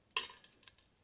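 Whole spices such as bay leaf, dried chilli and cloves hit hot oil for khichudi bhog, giving a brief sharp sizzle followed by a few soft crackling pops, quiet and close.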